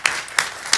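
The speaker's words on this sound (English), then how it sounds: "So I think that deserves a round of applause." A city council meeting crowd applauds the fire department, with three quick bursts of clapping at close range.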